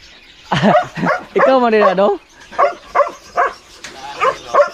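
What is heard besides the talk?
new dog barking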